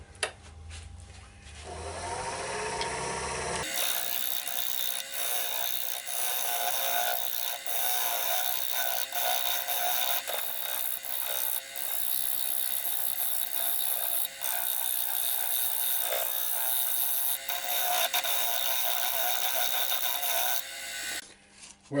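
Wood lathe turning an upcycled chopping board with a 10mm carbide cutter: a steady, loud, close whirring roar with dense high scraping from the cut, running almost without a break after a short quieter start.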